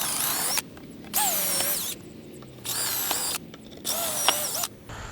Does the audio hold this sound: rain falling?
no